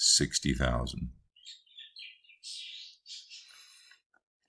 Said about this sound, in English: You could probably hear my daughter's bird in the background.